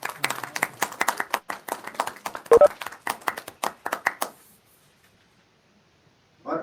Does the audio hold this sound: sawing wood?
no